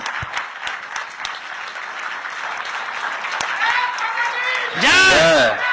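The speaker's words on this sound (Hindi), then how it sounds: "एक बार जोरदार ताली।" Audience at a Hindi poetry gathering (kavi sammelan) in Ghaziabad breaks into loud, sustained applause, swelling toward the end with shouts of approval and voices over the clapping.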